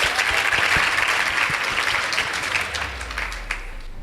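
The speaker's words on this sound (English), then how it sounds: "Please give them a round of applause." A school debate audience claps for the Weru Secondary School team after results are read, a dense burst of applause that fills the room and then gradually thins and fades.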